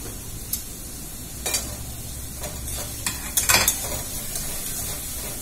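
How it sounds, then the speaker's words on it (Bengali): Marinated chicken fries in a pan with onions and extra oil, a steady sizzle broken by scraping, clattering stirs of a utensil against the pan. "আর এটাও একটু অন্যরকম ফ্রাই করছি দেখা যাক।"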